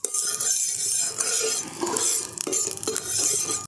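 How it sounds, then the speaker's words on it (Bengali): Oil is spread across a lightly heated tawa griddle with a utensil, producing a close, continuous sizzling hiss with rhythmic scraping strokes against the metal. "এরপর দিয়ে দিচ্ছি আমি অল্প একটুখানি তেল। তাওয়াটা চারদিকে দিয়ে দিচ্ছি।"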